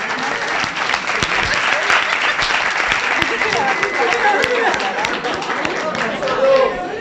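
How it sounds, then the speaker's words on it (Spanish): Audience applause for the waiters at a maternal-fetal medicine course: dense, sustained clapping from a room full of people, with some voices mixed in. "Un aplauso para los mozos."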